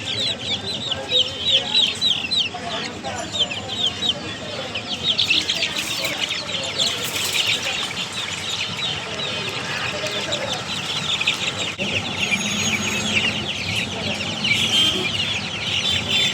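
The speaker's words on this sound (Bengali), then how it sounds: "এটা হলো আর একটা টাইগার মুরগি" A flock of chickens, including Fayoumi and tiger hens, clucks and chatters continuously nearby at a large Dhaka poultry market, overlapping calls filling the whole stretch with a busy farmyard feel.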